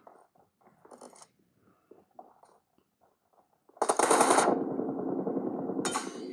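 M4 rifle fire in a video game, heard as a sudden loud, sustained burst of rapid automatic shots. A brief gap follows, then another burst starts, after quieter clicking and small game sounds.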